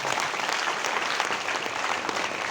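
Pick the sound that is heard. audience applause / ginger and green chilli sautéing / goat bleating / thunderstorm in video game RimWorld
audience applause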